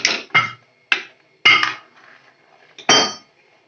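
Lentil curry in a pot being stirred with a utensil: a handful of sharp scraping clanks against the metal, spaced irregularly with short pauses, fairly close, with no voices.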